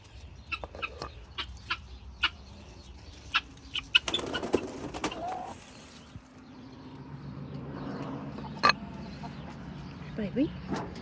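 Free-range hens clucking in short scattered bursts, some close and sharp, over a quiet outdoor background with a few brief louder noises.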